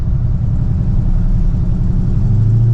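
A procharged 1100 HP Dodge Charger Scat Pack engine idles with a deep, steady low rumble, loud and close, holding even throughout with a slight throaty lope.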